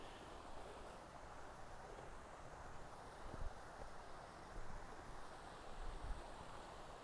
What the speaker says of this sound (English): Again, they have these beautiful little waterfalls here.